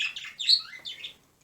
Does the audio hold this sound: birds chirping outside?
yes